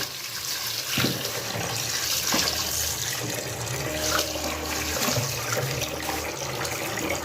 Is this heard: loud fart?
no